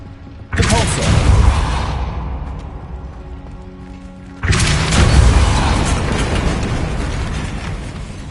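A Depulso force spell cast in the Hogwarts Legacy video game lands as two heavy booming blasts, the first just after the start and the second about four seconds later, each followed by a rumbling tail.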